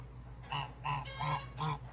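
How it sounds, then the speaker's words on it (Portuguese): A goose gives four loud, nasal honks in quick succession, close by and on its own. "O ganso não deixa eu chegar lá"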